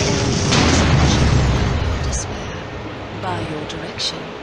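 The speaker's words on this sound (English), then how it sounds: "Let's destroy this turret." A turret being destroyed in the Vainglory video game, heard as a loud rumbling boom and crackling blast up close that fades into game noise, with a few sharp higher bursts afterward.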